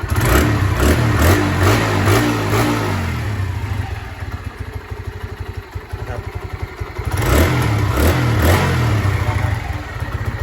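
A Honda Sonic motorcycle engine revs up hard in repeated bursts from a cold start, loud and close, with its throttle rising and falling in rhythmic waves between calmer idling stretches.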